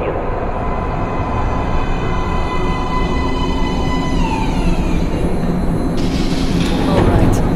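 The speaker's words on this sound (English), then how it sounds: "Train coming in." A subway train in the video game Metro Last Light rumbles in steadily, with a rising metallic whine and a hissing screech toward the end, loud and close.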